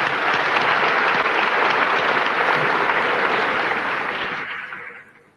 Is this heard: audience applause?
yes